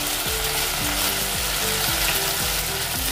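Sauces (red chili sauce, ketchup and Schezwan sauce) sizzle and fry in a hot pan while being stirred, a steady bright hiss with low repeated scraping strokes from the spoon, close and continuous with no talking.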